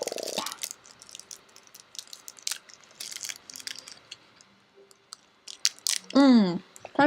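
Crunchy candy bar bitten and chewed close up, with scattered crisp crunches and clicks between quieter chewing, followed by a brief burst of voice near the end.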